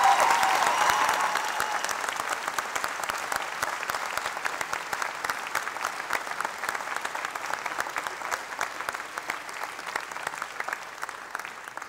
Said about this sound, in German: Deswegen nochmal einen großen Applaus an Timo.